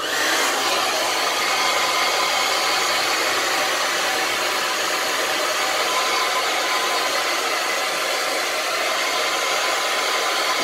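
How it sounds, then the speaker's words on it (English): A hair dryer blows steadily and loudly for the whole stretch, drying a non-surgical hair replacement system with a constant, unbroken whoosh. "I roughly blow dry over it, just to take the sort of the excess moisture out of the hair"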